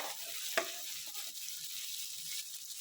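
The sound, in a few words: vegetables frying in a pan for veg Manchurian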